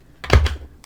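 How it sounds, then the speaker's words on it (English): Tarot cards being shuffled by hand, a single short riffle-like burst of crisp papery clicks and thumps lasting under a second, close and fairly loud with no talk. "I'm shuffling them again on the camera so you guys can see that too"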